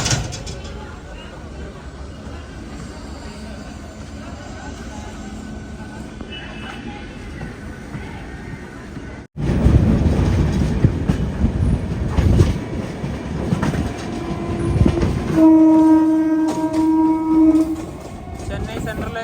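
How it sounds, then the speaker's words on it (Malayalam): A local train bound for Chennai Central pulls in near a station with a swelling rumble and rail clatter, then a sustained horn blast sounds near the end, with some talking in the background. "ഇവിടേക്ക് ഒരു ലോക്കൽ ട്രെയിൻ വരികയാണ്."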